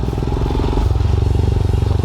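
Royal Enfield Himalayan motorcycle riding over a bumpy dirt road with potholes and ditches, its engine thumping steadily and loudly up close, with rattles and clatter from the rough surface.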